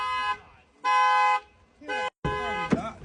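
Several car alarms go off across a parking lot, sounding in repeated steady tones broken by short gaps, with a brief voice near the end.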